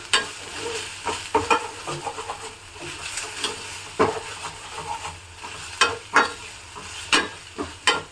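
Ginger-garlic paste fries in oil for a simple egg gravy, a soft continuous sizzle broken by repeated scraping strokes of a spatula against the pan.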